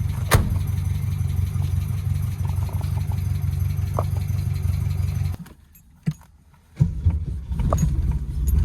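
An old SAAB 96 car, abandoned for 36 years, runs with a steady low engine rumble. The rumble drops away briefly, then returns with some knocks and rattles.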